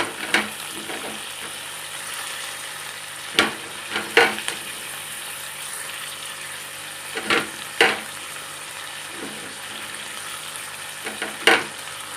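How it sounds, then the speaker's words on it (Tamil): Fenugreek leaves frying with softened tomatoes in a pan for a kasuri methi dhal, a quiet sizzle under occasional sharp scrapes and clanks of the stirring spoon, spaced out and close. "இப்போது நம்ம க்ளீன் பண்ணி எடுத்து வச்சுருக்கிற இந்த வெந்தயக்கீரையை சேர்த்துக்கலாம்."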